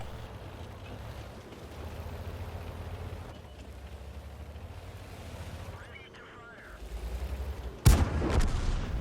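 A tank cannon fires in World of Tanks from a T71 on the Sand River map: a low rumbling engine drone builds up, then one sudden loud, sharp blast rings out near the end.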